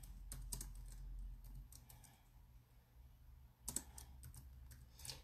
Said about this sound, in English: I have to go over here and type some information here.